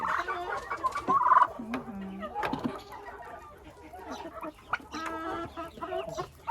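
Turkeys and chickens in a henhouse cluck and gobble close by in scattered bursts, with a person talking at times among the birds.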